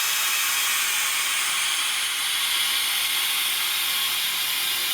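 Air hisses steadily back into a vacuum chamber holding resin, a continuous close rushing hiss that holds level throughout.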